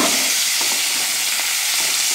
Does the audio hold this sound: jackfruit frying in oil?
yes